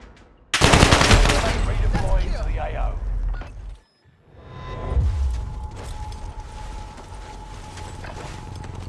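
Bren machine gun fire in Call of Duty: Modern Warfare rattles out in loud, dense bursts for about three seconds, breaks off briefly, then returns more softly under ongoing talk.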